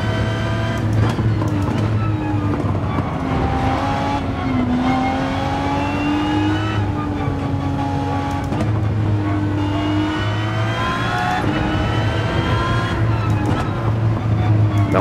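An Aston Martin Vulcan's engine drones and shifts pitch while driving on board in Gran Turismo 7 in VR, a loud continuous roar with rising and falling revs, with someone commentating over it.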